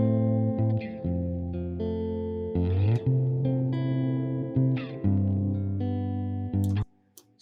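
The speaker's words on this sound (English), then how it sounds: "I'm just going to add a stereo delay here." Electric guitar sustaining notes and chords through a stereo delay effect in Logic Pro, with echoes trailing behind each change; it plays loud and clean, then cuts off near the end, leaving faint tails.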